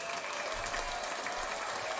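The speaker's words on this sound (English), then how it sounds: "Maybe we can also give a clap." A canned applause sound effect plays during a live stream, a continuous, even wash of crowd clapping, fairly quiet, lasting two seconds with no speech over it.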